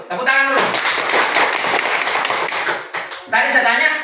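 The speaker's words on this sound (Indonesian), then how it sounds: "Tepuk tangan dulu." Primary school teachers at SDN 011 Pamusia clap their hands together in a dense burst of group applause lasting a couple of seconds, with voices speaking just before and after.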